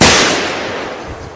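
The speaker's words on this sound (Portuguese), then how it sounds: "Esses tiros, eles estão chegando" A sharp burst of gunfire crackles close and loud at the start, its noisy tail fading over a second or so, heard during a skirmish in colonial Brazil's sugar war.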